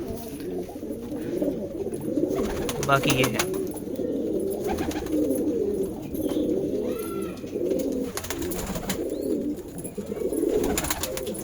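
Pigeons coo steadily and close by, a low burbling rhythm that keeps repeating, with a few brief murmured words and scattered chirps in the background.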